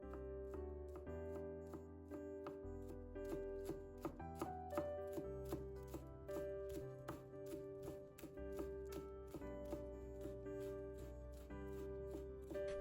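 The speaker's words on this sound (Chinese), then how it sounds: "直接把它切成葱花。" A knife chops washed scallions on a cutting board in quick, even, crisp taps that continue steadily, with soft tonal music playing in the background.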